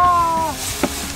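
Water hisses and sizzles sharply on hot stones in an underground forest sauna, a broad crackling fizz with a brief tonal whine fading early and a small splash midway.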